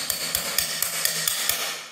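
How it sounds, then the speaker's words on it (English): A metric adjustable wrench used as a hammer taps a hard surface seven times at a steady, fairly quick rhythm. The knocks are close but muted, with a low hum underneath during a hydroponic lift installation. "a hammer"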